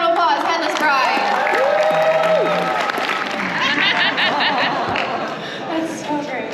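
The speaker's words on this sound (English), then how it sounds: "Give her another round of applause." Audience at a fan convention panel applauding and cheering, dense clapping with chatter and laughter, a voice speaking over the crowd as the applause fades.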